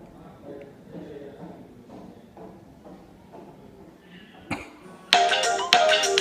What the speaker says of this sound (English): here you can hear the customized ringtone and the notification